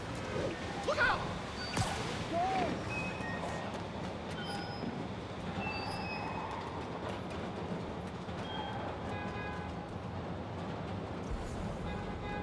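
A train in the Marvel's Spider-Man video game runs steadily along its rails, a continuous rumbling roar with brief metallic squeals near the start, carrying loudly throughout under faint game voices.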